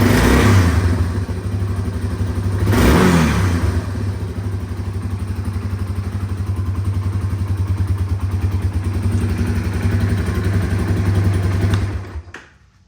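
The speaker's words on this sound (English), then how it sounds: "So check out this throttle response now." Yamaha Warrior 350 ATV engine, recently fitted with an OEM carburetor, idling steadily with a quick throttle blip and rev early on, then settling back to a loud, even idle before cutting off at the end.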